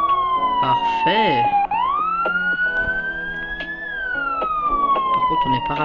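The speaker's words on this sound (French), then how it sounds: "On va éteindre la sirène." Fire truck siren in a Roblox firefighting game, loud wailing electronic tone rising and falling steadily, with a brief yelp-like warble early on, sounding continuously up close.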